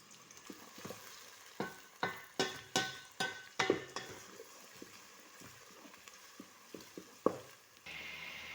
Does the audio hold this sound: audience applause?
no